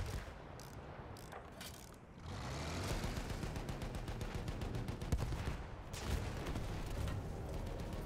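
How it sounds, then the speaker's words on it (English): Artillery fire in Battlefield 1 comes as a dense, continuous barrage of gunfire and booms, heavy and close throughout, with sharper bursts near the middle and no talking. "Is there there's artillery shooting at me."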